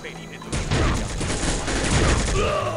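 Rapid bursts of pistol fire in the shooter game Soldier of Fortune II, dense crackling shots from about half a second on, layered over a busy game backdrop.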